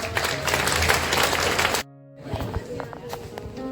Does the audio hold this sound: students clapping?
yes